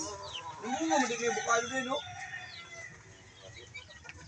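A laying hen clucks and cackles near her nest box, loud repeated harmonic calls over the first two seconds, then fading to softer background fowl sounds.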